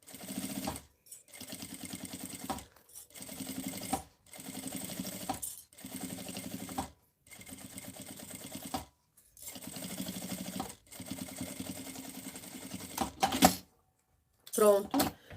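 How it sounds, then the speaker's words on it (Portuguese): Sewing machine stitching a quilt edge along a presser-foot-width seam allowance, running in repeated bursts of about a second each separated by short pauses, with a voice speaking between stretches. "Você começa com a margem de um pé de máquina e vai até o final"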